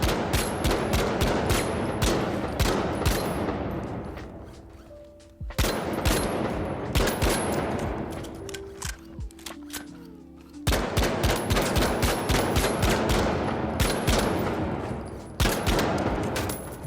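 Dense bursts of automatic gunfire from the shooter game The Finals rattle in rapid volleys, separated by short pauses in which the shots echo and decay.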